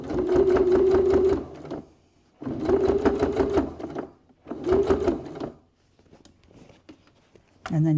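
Sewing machine stitching a cosmetic bag seam at a quarter-inch allowance, running in three loud steady bursts of about a second and a half each, with short pauses and faint handling noise in between.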